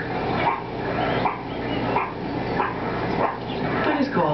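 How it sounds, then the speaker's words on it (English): A series of sharp, repeated meerkat alarm barks, roughly every half second to second, loud and close against a noisy background. "alarm bark interrupts the hard work."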